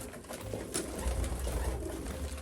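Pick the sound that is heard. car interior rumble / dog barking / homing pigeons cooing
homing pigeons cooing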